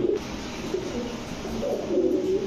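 A Saki Teddy pigeon at a breeding loft gives soft, low cooing calls, faint and near, repeating in short bursts over a steady background hum.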